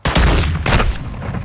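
Heavy gunfire from a shotgun-focused video game, with dense, loud bursts arriving close together in two strong waves and a ringing tail.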